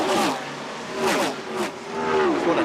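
NASCAR stock cars roar past at high speed at Talladega Superspeedway during the 1988 Diehard 500, engines whining and swelling in repeated loud passes with a rushing, droning blur of sound.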